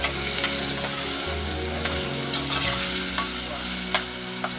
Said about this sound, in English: I'll stir it again.